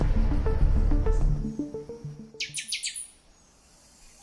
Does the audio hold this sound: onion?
no